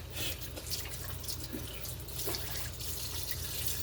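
A kitchen sink sprayer blasts water over dirty dishes, making a steady, close, rushing hiss with light splashing throughout.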